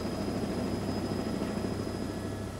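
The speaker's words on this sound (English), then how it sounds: "So once again, the helicopter is now en route." A news helicopter in flight gives a steady low rotor and engine drone that holds evenly throughout, with no speech over it.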